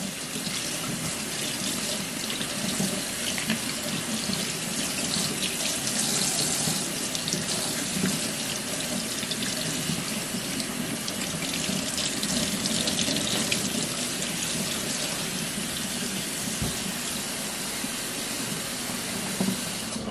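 Kitchen tap water runs steadily while leeks are washed under it, a constant close rushing splash lasting throughout with no talk.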